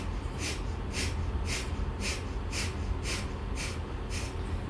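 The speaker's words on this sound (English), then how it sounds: "Okay, so it's a forceful exhale" Breath of fire yoga breathing: about eight quick, forceful nasal exhales in a steady rhythm, each a short hissing snort, close and fairly quiet over a low background rumble.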